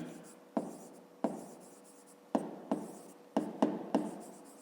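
Pen writing numbers on paper during a fifth-grade maths exercise, a series of short scratchy strokes with sharp starts that trail off, close up, with a voice speaking faintly at times.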